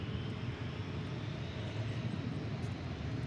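An Airbus A321 taking off at DFW Airport bound for Cancun gives a low, rumbling engine roar, steady and somewhat distant, with no speech over it.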